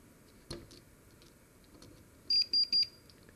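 Multimeter continuity tester on the ground pins of a 6502 chip gives three short, sharp beeps in quick succession after a few faint clicks of probes touching.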